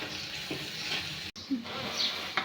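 Mutton masala fries in oil in a pan while being stirred, a close soft sizzle with scraping movements and a brief break partway through.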